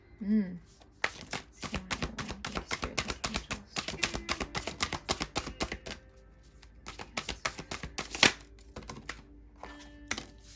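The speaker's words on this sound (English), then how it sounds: "I'm having a little bit of a difficult time shuffling these cards." Tarot cards are riffled and shuffled in a quick run of crisp flicking taps, with a short pause midway, close and fairly quiet.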